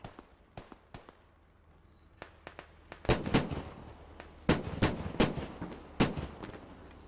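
Gunfire and 30mm cannon fire in the military shooter game Squad, with scattered single shots early, then loud rapid bursts of heavy cannon and rifle reports, some close and sharp, others more distant.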